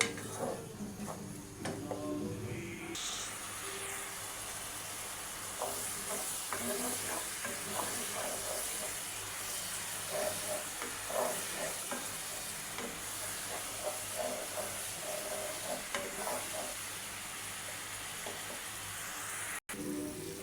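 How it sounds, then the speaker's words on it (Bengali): Milk kulfi mixture stirred in a pan on the stove, a steady hiss and bubbling simmer with repeated soft scraping strokes of the spoon throughout. "ভালো করে লেড়ে নেব, লেড়ে সেটা ভালো করে মিশিয়ে নেব"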